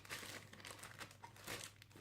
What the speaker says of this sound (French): on va ouvrir l'enveloppe